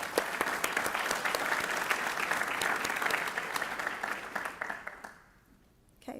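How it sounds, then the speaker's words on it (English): Audience applause at a university college award ceremony, a sustained crowd of clapping hands filling the room for about five seconds before fading quickly into near silence. "So let's give her a round of applause."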